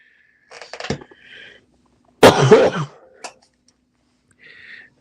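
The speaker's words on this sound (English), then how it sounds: "why I'm coughing or sniffling a lot, I'm still getting over a cold" A person recovering from a cold coughing and clearing their throat indoors: a short rough cough, then a louder harsh burst a second later, followed by faint scattered sounds.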